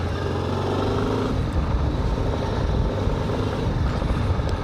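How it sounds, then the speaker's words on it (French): Honda XRV 750 Africa Twin motorcycle engine pulling under throttle on an off-road trail, a steady, dense rumble that stays loud and close throughout with no talking. "Donc on met un peu de gaz, il y a du couple."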